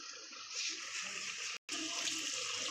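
Water is poured into a pan of cooked ghugni, a steady close rush and splash of liquid with a brief cut partway through, no voices.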